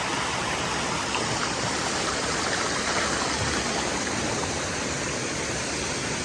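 Natural spring water flows steadily from underground at a spring in Barangay Tambobong, Baguio District, Davao City, a continuous broadband rushing wash, close and even, with no voices.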